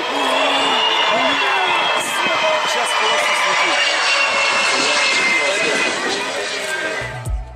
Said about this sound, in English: The Sukhoi Su-35 fighter jet aircraft suffer from a wing strike while landing during the air show